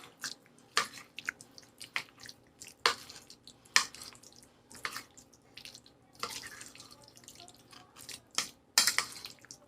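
Mayonnaise is stirred into Cajun chicken and potato salad, making wet squishing, sticky smacking sounds in irregular bursts, close and moderately loud, with brief quiet gaps between strokes.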